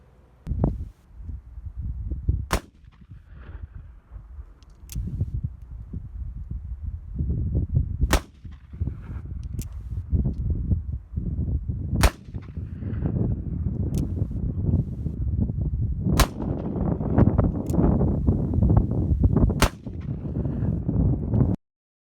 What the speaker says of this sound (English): I'll fire a shot with a wad and then I'll fire a shot just using lube over the ball